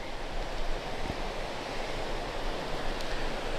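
Steady, dense rush of falling water from a waterfall at Pipestone National Monument, a constant broadband roar close by with no pauses.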